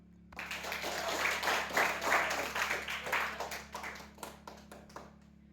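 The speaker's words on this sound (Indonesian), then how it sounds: "Kita beri tepuk tangan untuk teman" A class of students applauds a classmate, the clapping rising quickly into a full sustained round, then thinning into a few scattered claps near the end.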